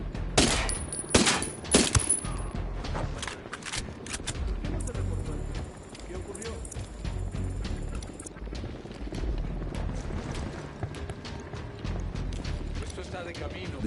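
Submachine gunfire in the video game Ghost Recon Wildlands comes as sharp bursts early on, followed by mechanical clatter and other game noise, with no talk over the shooting.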